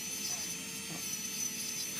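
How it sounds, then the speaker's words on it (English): An electric nail drill with a fine bit grinds gel off a fingernail, giving a steady, faint motorized whine with a thin high hum that runs unbroken throughout. "I'm applying fine work with this drill bit, and as you can see, I can remove"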